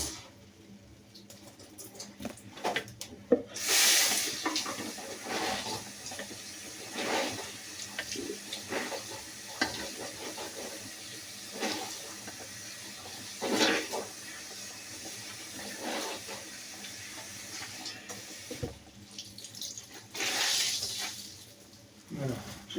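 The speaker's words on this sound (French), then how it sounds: "Alors je vais rincer cette partie-là." Laundry being rinsed under a running tap, with water splashing and gushing in irregular bursts, some long pours and sloshing, close by and moderately loud, with someone talking at times.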